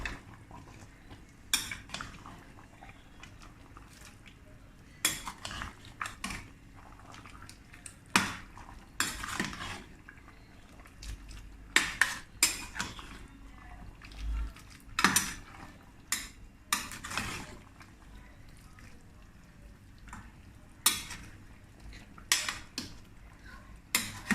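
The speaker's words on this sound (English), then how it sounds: "So that's about all of the ingredients now. Let us stir it nicely." A spoon stirs a methi and fresh peas dish in a metal pot, scraping and clinking against the sides in irregular strokes, close and distinct over a quiet background, with no talk.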